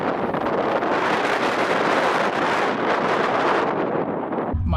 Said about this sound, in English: It's very, very windy outside, so all of the outside footage is probably going to be junk.